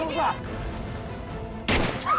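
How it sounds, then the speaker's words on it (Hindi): A sharp, loud gunshot-like burst cracks out near the end, after a stretch of tense background noise and voices. "ये तो गोली की आवाज थी ना।"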